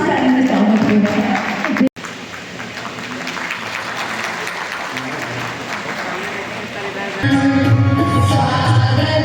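Loud, sustained applause from a crowd welcoming honoured teachers at a Teachers' Day event in Deoghar, Jharkhand, with a brief dropout partway through and a voice talking over the clapping.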